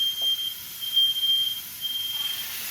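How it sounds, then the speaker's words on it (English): A smoke alarm set off during cooking sounds a steady, loud high-pitched electronic tone that continues without a break, with no talking. "We set off the fire alarm, folks."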